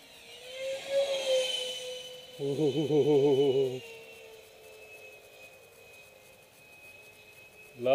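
A twin 70mm electric ducted fan model jet spools up, with one fan pushing harder than the other: a thin, wavering whine that swells into a brief warbling burst, then settles to a steady high tone.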